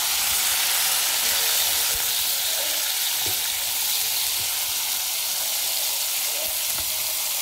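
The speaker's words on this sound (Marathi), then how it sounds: "त्या तेलामध्ये शिमला मिरची फ्राय करून घेऊया।" Capsicum sizzles steadily in hot oil for paneer chilli, a dense continuous frying hiss with occasional soft crackles and faint stirring, close and fairly loud with no voices.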